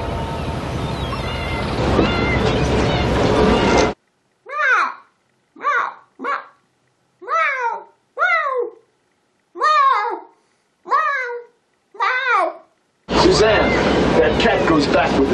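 A cat meows repeatedly, about eight short rising-falling cries in a row, between stretches of louder background sound with voices.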